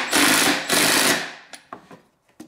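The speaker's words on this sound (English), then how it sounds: "tighten that lock nut right up" Lock nut being tightened on the axle of a Peg Perego John Deere Gator ride-on gearbox: two loud, close, rattling mechanical bursts, then several short clicks and taps with no talking.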